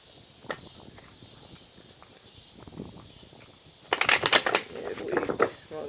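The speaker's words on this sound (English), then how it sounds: "All right, two more shuffles." Tarot cards being shuffled by hand, with a quiet stretch of soft handling and light rustles before a loud burst of rapid riffling flutters near the end, a steady high background whine throughout.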